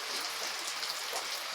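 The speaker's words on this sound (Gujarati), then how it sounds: "મસ્ત વરસાદ આવું છે" Heavy monsoon rain comes down in a dense, unbroken hiss of countless drops striking surfaces, steady and fairly loud throughout with no clear voices.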